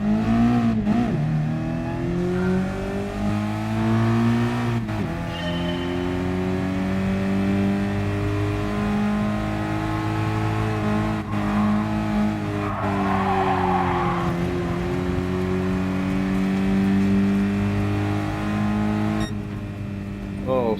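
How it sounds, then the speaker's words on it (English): A race car in the GT Sport driving game launches from a standstill and accelerates hard, its engine note climbing and shifting as a loud, continuous roar that holds for the whole stretch. "Launch your car from a standstill as you have done before"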